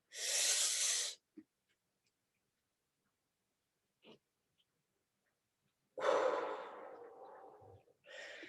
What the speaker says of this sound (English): Breathe in on your way up. Hold it there and then exhale on your way down.